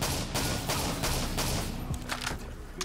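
Rapid automatic gunfire in Call of Duty Zombies on the custom MW3 Seatown map, a dense, steady stream of close shots running nearly three seconds with almost no pause.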